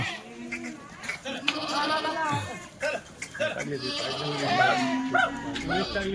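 Several Kathiawari goats bleat close by in overlapping, wavering cries, with a person talking among them.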